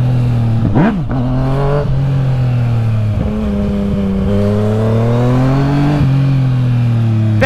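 A Yamaha MT-09 motorcycle with a new exhaust revs hard close by, its pitch swooping up and down through several throttle blips over a loud, continuous rumble.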